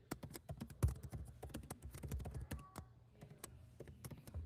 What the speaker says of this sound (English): I can do some typing now.